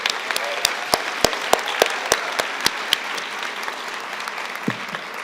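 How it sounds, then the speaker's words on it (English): A graduation audience at a 2022 art college commencement claps, a dense, steady wash of applause with a few sharper individual claps standing out near the front before it thins toward the end. "Give yourself a round of applause."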